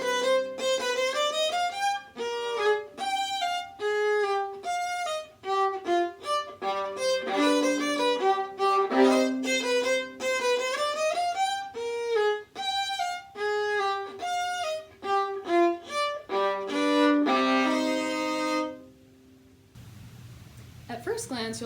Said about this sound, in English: I play the viola, which sounds like this